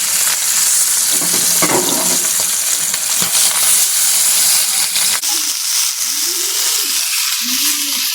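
Rupchanda fish frying in hot oil, a steady broadband sizzle with sputtering throughout, continuous and fairly loud; a few low voiced sounds or clinks appear in the second half.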